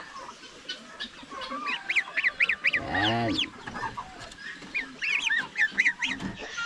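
A goose among backyard poultry honks in a series of quick nasal calls, fairly faint and mixed with chicken clucks, with a brief spoken word in between.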